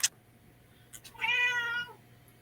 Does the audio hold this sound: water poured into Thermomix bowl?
no